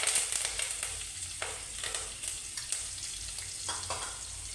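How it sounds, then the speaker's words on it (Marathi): Green chilies and curry leaves hit hot oil with browned garlic, giving a steady, loud sizzle with crackling bursts and a few stirring scrapes, close up and with no voices. "त्याच्यामध्ये मी मिरची आणि कढीपत्ता घालते"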